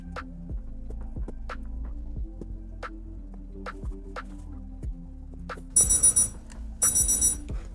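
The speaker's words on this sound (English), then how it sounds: "That's the alarm, so I know my grease hot." A digital cooking thermometer alarm signals that frying grease has reached temperature for battering crappie, sounding two loud bursts of rapid high beeping near the end after a quiet stretch of faint taps and sizzling.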